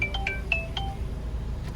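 A short electronic phone tone plays a few quick chirping beeps, then a brief gap and another faint beep, over a low background hum.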